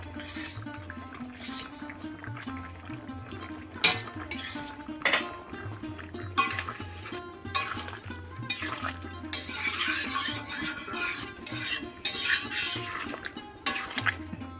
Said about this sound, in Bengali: তো চলো এখন পনিরগুলো দিয়ে দিই